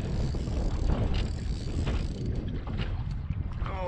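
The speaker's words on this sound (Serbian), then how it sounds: "Vetar duva." Wind gusting by the water at a carp fishing spot, a continuous low rumbling buffet against the microphone with faint mechanical clicks, no talking.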